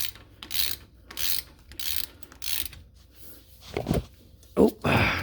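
On a 2009–2014 Ford F150, a ratchet tightens a 13 mm self-locking nut in a row of quick clicking bursts with short pauses between, followed by a few heavier, louder knocks near the end.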